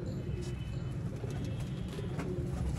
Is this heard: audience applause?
no